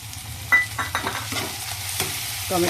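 Chopped tomatoes drop into a pan of lightly fried onions for a chicken dish, followed by close scraping strokes of a spoon and a soft sizzle under a low kitchen hum.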